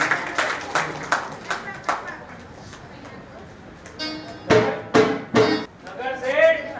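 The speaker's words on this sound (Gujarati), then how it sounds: "જોરદાર તાળી પાડો." Audience at a staged devotional drama performance claps in a series of loud, distinct bursts, some isolated and some clustered, with musical tones and voices surfacing between them.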